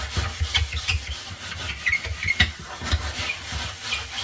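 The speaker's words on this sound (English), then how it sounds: "getting a scrubby to scrub that out" A red scrub pad rubs and scours the grimy interior of a dirty oven during cleaning, giving close, steady back-and-forth scrubbing strokes in an uneven rhythm with no talking.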